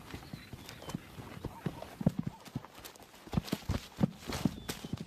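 Wild horses, mares and stallions, moving over firm ground, an irregular patter of hoof clip-clops at a walking pace, some steps sharper and nearer than others, heard alone at moderate volume.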